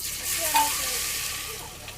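Cumin seeds and garlic go into hot oil for pithla: a short, soft, even sizzle heard up close, with a faint hint of a voice nearby.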